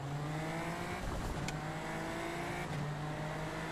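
Super Formula Lights race cars in the iRacing simulator rev at the race start at Interlagos, giving a quiet, steady layered engine drone with tonal whines and a few faint passing blips.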